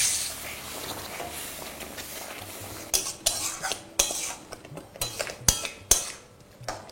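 Soybean curry masala stirred and sautéed in a pan with a little water, a low steady sizzle broken by sharp scraping clinks of a utensil against the pan in irregular bursts, close and fairly loud.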